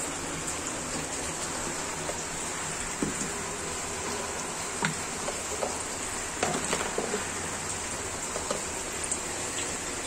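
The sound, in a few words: whole cumin seeds added to hot oil, sizzling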